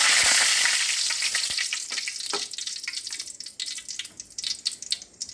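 Bread egg toast frying in ghee in a pan, loud crackling sizzle at first that settles into scattered pops and spits, with no talking.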